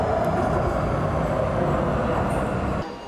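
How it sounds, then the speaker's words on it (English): A Taipei Metro train runs along its track with a loud, steady rumble and rolling rail noise, then drops off sharply near the end as it passes. "The Taipei Metro is one of the most convenient ways to get around the city."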